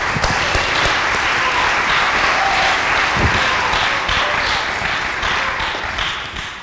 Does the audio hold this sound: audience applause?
yes